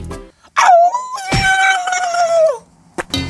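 A human voice imitates a fox howl, one rising wail that bends down and holds a long, wavering note before trailing off, close and loud, framed by short breathy noises.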